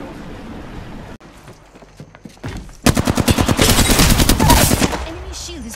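Rapid gunfire bursts out in the video game Apex Legends after a quieter stretch, a loud, dense rattle of automatic shots that fades near the end.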